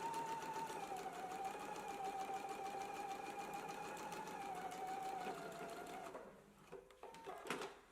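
A sewing machine stitches the right side seam of a garment made from the Know Me ME2040 pattern at a 5/8 inch seam allowance, running steadily for about six seconds before stopping, followed by light handling noises.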